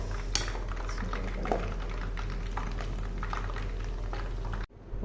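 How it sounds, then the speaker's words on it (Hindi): Medium-sized pakoras for kadhi fry in hot oil, a steady bubbling hiss with scattered crackles and small pops, fairly close, ending in an abrupt cut. "मीडियम साइज़ के ही छोटे ही इसके अंदर हम पकौड़े निकाल के डालेंगे।"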